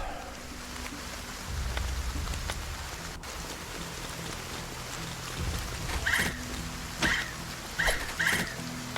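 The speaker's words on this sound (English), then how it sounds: "Appears to be raining on my poor adventurers again." Steady rain falls in a video game demo, a continuous hiss under scattered low thumps and a few short bright sound effects near the end.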